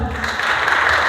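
A crowd claps at a Safety Day program, a brief, dense burst of applause that fills the space at steady loudness.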